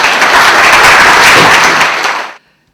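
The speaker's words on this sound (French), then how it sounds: "Je vous remercie et vous demande d'applaudir Marie Romanens." A lecture-hall audience claps for a speaker being introduced at a talk on self-transformation, dense steady applause for over two seconds that cuts off abruptly.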